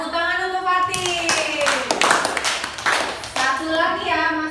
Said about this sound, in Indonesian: tepuk tangan untuk Fatin.